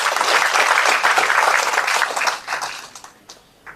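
An audience at a ceremony applauds its media partners, a broad sustained wash of clapping from many hands that fades away over the last second or so.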